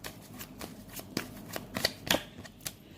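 Tarot cards shuffled and drawn for an Aquarius love reading, a run of soft papery riffles and flicks with a couple of sharper snaps near the end, close and alone with no talk.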